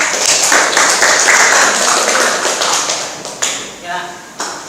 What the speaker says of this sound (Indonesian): kasih aplaus untuk kelompok 3